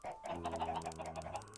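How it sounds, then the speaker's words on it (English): Chickens cluck in a Minecraft game, a short run of close, moderately loud bird calls with a steady repeating rhythm and no voices. "I still have the chickens following me"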